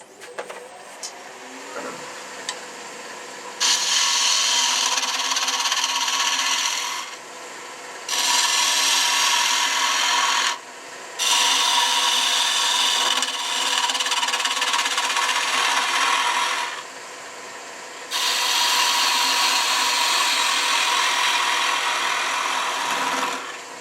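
A knife carving wood makes long, loud, close scraping strokes of several seconds each, broken by short pauses, with a few faint ticks between the cuts.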